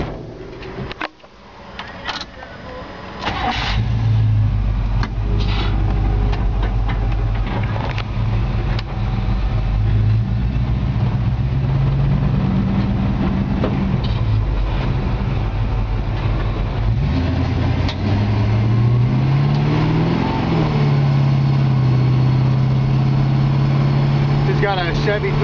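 A 1954 Chevrolet 3100 pickup with a Chevy 350 four-barrel V8 and automatic transmission cranks and fires after a few seconds, then settles into a loud, steady idle broken by a couple of rising and falling revs.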